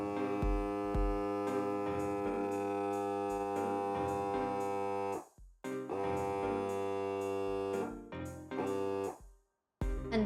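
A NOCO AX65 portable air compressor inflating a bicycle tire gives a steady, buzzing electric hum with a rapid pulsing throb. It runs close and continuous, cuts out briefly twice, and has no voices over it.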